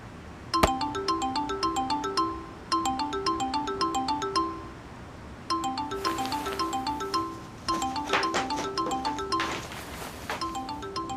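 A mobile phone ringtone plays a bright, repeating melodic pattern in regular bursts with short pauses between them, clear and close with nothing else over it.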